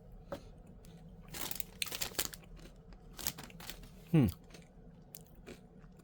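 Crunchy bites into a Nestle Drumstick ice cream cone with a chocolate-coated waffle cone, several soft crunches scattered across the moment and one sharper, louder bite near the end, close to the mic with no talk.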